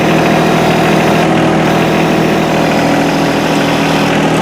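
Old tractor engine running loud and close while digging dirt with its front loader, a steady rumbling drone throughout.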